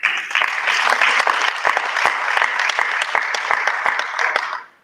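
Steady, close applause from workshop attendees at a geographical names capacity building session, a dense patter of many hands that holds evenly and then fades out at the end.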